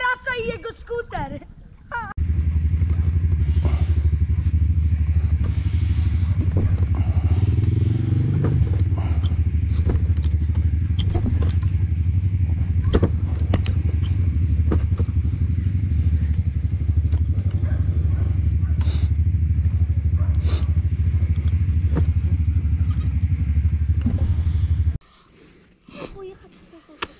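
A motor scooter engine idles and hums steadily at close range for most of the clip, with people talking faintly over it before it cuts off.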